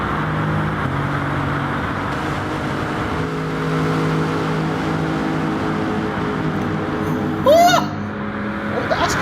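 Bugatti Veyron race car engine in a Le Mans racing video game, a steady loud drone with sustained harmonic tones throughout, rising briefly near the end.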